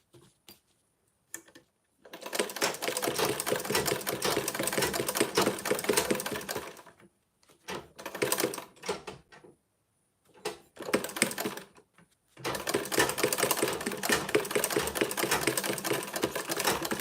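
A sewing machine topstitches a bag with a zip in long, steady runs of rapid stitching, broken by short pauses and a few brief bursts between stretches, fairly close and loud with no talking.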